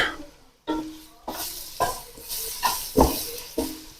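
Garlic ginger paste sizzles in a hot pan while a spoon stirs it in repeated scraping strokes, about six in a row, close and fairly quiet.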